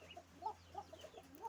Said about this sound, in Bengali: মুরগির বাচ্চা দেখছেন